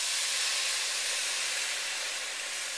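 Wine poured into a hot pan to deglaze it, giving a loud, steady sizzle and hiss that holds evenly for the whole stretch with no voices over it.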